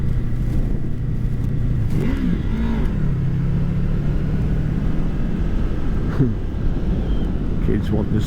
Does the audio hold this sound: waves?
no